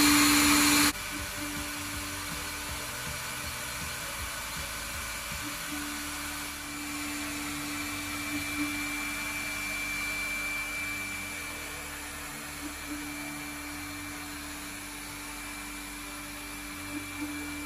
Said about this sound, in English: I'm starting my machine with the vertical head.